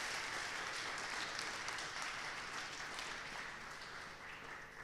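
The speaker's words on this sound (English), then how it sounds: "Give them one more big applause" An audience at a wood-themed startup pitch event gives a dense, sustained round of applause that fills the room evenly and tapers slightly toward the end.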